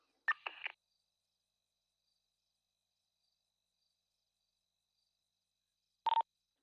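Phone dialing tones inside a GTA roleplay game: a quick cluster of short beeps at the start, a long silence, then another brief burst of tones near the end, fairly quiet with no talking.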